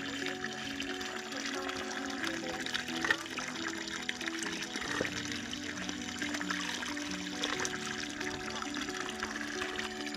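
A mountain spring trickles and splashes continuously nearby, a steady watery wash that fills the whole stretch, with people talking faintly over it at times.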